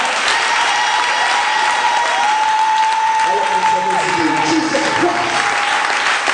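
A Sunday church congregation breaks into sustained applause and cheering, a dense wash of clapping with steady, sung or shouted tones rising over it throughout.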